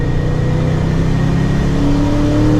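A Procharged Ford Mustang engine roars loud and close in a steady second-gear pull, its pitch climbing smoothly under full throttle with a supercharger whine over the exhaust.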